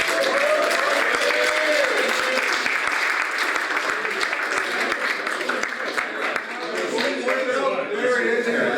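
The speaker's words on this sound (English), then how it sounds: "let's do one more round of applause" Sustained audience applause fills the room at a volunteer ski patrol safety talk, dense steady clapping from a crowd heard close and loud throughout, with a few faint voices mixed in.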